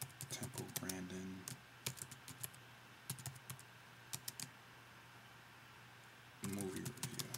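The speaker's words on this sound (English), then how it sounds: "So I would type in Temple Grandin" Keys on a computer keyboard clatter in quick bursts, with a longer stretch of typing at the start and short taps later, recorded close up but quiet, with a voice talking at times.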